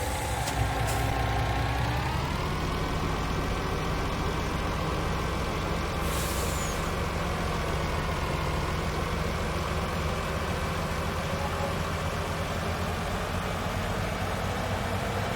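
A truck engine idles in the Farming Simulator 19 video game on the Volksbrunn map, a continuous loud drone with a slight pitch dip early on and a short hiss like an air brake release.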